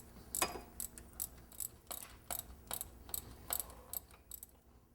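A ratchet tightens the fasteners on a car's water pump in a series of short, sharp clicking bursts, about a dozen evenly spaced strokes, close and fairly quiet, with no voices.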